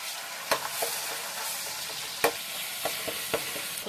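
Ginger and garlic frying in oil for chicken curry make a soft, continuous sizzle close by, broken by a handful of sharp spoon-scraping clicks at irregular intervals, with no talking.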